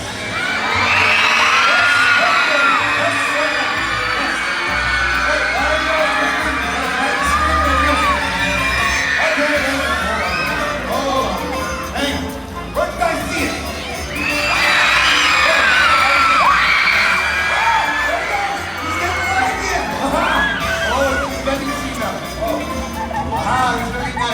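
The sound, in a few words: audience of children yelling and screaming at sea lion show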